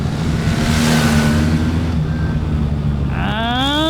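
A BMW R1300 GS Adventure motorcycle engine drones steadily at close range, then climbs sharply in pitch as it accelerates through the final second, loud and continuous with no talk.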